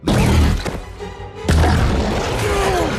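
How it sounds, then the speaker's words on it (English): A loud, sharp blast hits at the start and another at about the midpoint, each a booming gunshot followed by a ringing, echoing tail, cinematic and close. "The explosion ends and Sam shoots the dinosaurs with his weapon."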